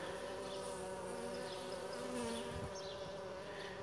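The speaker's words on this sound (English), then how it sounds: "These are all worker bees here" Worker honeybees buzz at a hive entrance, a soft continuous drone of many wings, fairly faint and steady with no talking.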